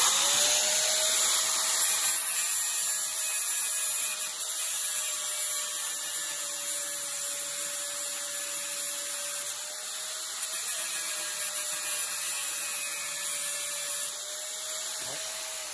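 Angle grinder running on a metal chain, a steady high-pitched electric whine held at a constant pitch throughout, fairly near and alone without talk.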